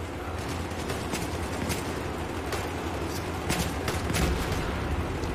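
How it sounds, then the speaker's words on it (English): Rapid gunfire and explosions crackle and boom continuously through a Battlefield 3 firefight, dense overlapping bursts with heavier blasts toward the end. "A lot of explosions."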